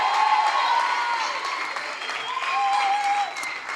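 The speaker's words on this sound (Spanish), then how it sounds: "un aplauso más fuerte para Angie" An audience claps loudly and steadily at a church-style gathering, a dense wash of applause with faint voices and cheering mixed in.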